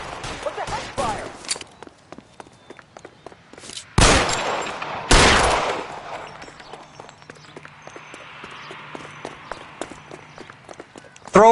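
Gunfire in the video game L.A. Noire, two loud shots or bursts a second apart standing out from scattered quieter movement and game noise, with voices talking at the start.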